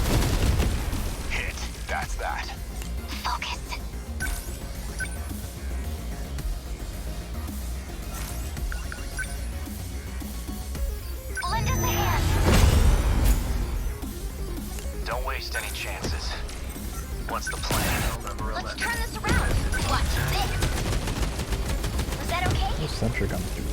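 Sentry guns fire in the sci-fi mecha battle game 13 Sentinels: Aegis Rim, with a steady rattle of gunfire and a loud boom near the middle, under continuous game voices and combat chatter.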